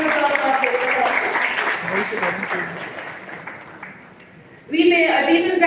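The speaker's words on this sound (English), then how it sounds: "Everyone, a big round of applause." Audience applause at a college orientation in Delhi, a dense sustained wash of clapping that gradually fades out before a voice begins speaking.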